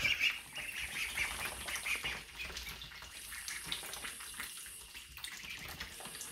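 Ducklings peeping and quacking near a water tap or tub, with high-pitched calls repeating through the scene over a running-water wash, fairly faint and close, with no talking.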